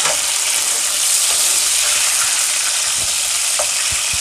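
Tomatoes and chillies sizzle in hot oil for an Andhra-style crab curry, a steady broadband frying hiss with a few soft stirring clicks, close and continuous throughout.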